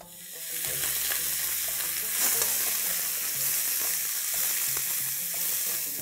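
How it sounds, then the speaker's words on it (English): Onions fry in a pan with half a teaspoon of salt for a Hyderabadi mutton tahari, giving a steady close sizzle with occasional stirring scrapes and no talk. "let's add half a teaspoon of salt to this so that the onions brown faster."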